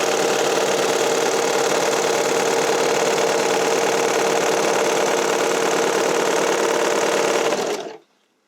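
A serger overlock machine stitches a lettuce-edge hem on spandex fabric, running at a steady, loud, continuous whir for about eight seconds before it stops abruptly.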